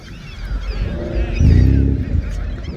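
A flock of geese scared into honking near a Honda car meet, a loud cluster of harsh honks and calls that swells in the middle and trails off, close by with no talk over it.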